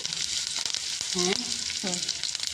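Curry leaves sizzle in hot oil in a pan where paneer was just fried, giving a steady, close frying hiss throughout with a couple of brief tonal sounds.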